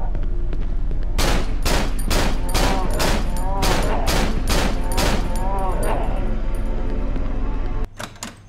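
About a dozen loud rifle shots fire at a steady pace at a monster in the horror game Cry of Fear, each a sharp crack with a ringing tail, over a constant low hum, ending in a brief clatter.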